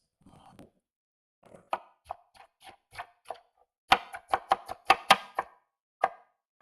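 A knife dices peppers on a cutting board in a string of sharp, quick chops that speed up into a rapid rhythm before slowing, close and clear with no talking.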